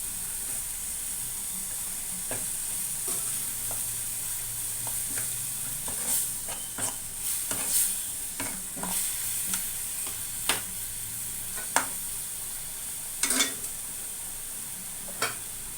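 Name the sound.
tomato paste cooking with drumstick curry masala, stirring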